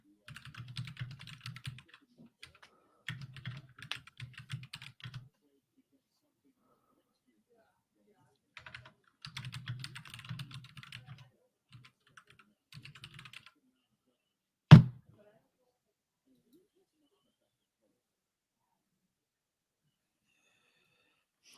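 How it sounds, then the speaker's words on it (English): Bursts of typing on a computer keyboard come in several short clusters of soft clacks with pauses between them, followed by a single sharp thump and then silence. "You over there typing out. Sound like you clacking out a small novel."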